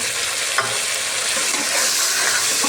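Tomato paste being sautéed in a pan for Kolhapuri misal, a loud, dense sizzle with a few brief spatula scrapes, close up and without voices.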